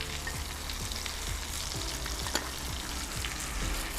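Pork liver with onion sizzles in a hot pan, a dense, continuous close fry with scattered pops and faint scraping, loud and alone with no talk.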